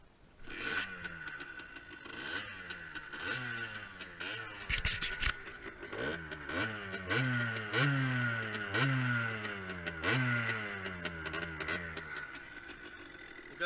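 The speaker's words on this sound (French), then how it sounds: "Alors maintenant on va écouter le bruit de la moto." A Beta 50 RR enduro motorcycle (2016), a small 50 cc bike, is started and runs with a rapid two-stroke putter that revs up and down in repeated surges, close and fairly loud.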